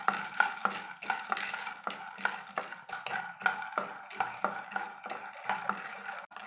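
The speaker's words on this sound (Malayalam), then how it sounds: "ഇനി ഇപ്പോൾ നമുക്ക് അതേ എണ്ണയിലേക്ക് കുറച്ച് നമ്മൾ എടുത്ത് വെച്ചിട്ടുള്ള പീനട്ട് ഇട്ട് നല്ലപോലെ ഒന്ന് റോസ്റ്റ് ചെയ്തെടുക്കാം." Peanuts being roasted in a little oil in a pan, stirred with a spoon in a quick, even rhythm of scraping strokes over a light sizzle, close and fairly quiet.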